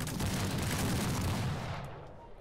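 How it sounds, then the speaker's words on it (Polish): A dense volley of rapid gunshots in a video game crackles in a continuous burst, fading toward the end, with no voices. "Kolejna salwa strzałów!"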